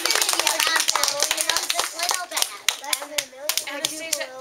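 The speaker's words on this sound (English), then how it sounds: "Can we give another round of applause?" Applause from a classroom audience after a student's presentation, a loose patter of claps mixed with children's voices and chatter throughout.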